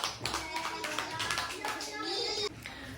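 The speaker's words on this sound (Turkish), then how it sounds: "Aferin bir alkışlayın arkadaşlarınızı." Primary school children clap for their classmates during a pedestrian-crossing traffic game in class, a short burst of quick, uneven hand claps over steady classroom chatter and children's voices.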